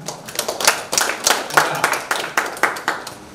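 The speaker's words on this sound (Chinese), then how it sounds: "我们是不是先用热烈的掌声来欢迎我们的张教授" A meeting audience claps to welcome a professor at a village renewable-energy briefing, irregular hand claps from a small group sounding close, with a faint voice underneath.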